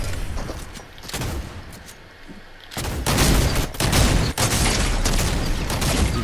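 Heavy shotgun blasts boom in Fortnite, several loud, close shots spaced about a second apart, with dense bursts of sound and rumble after the first few seconds.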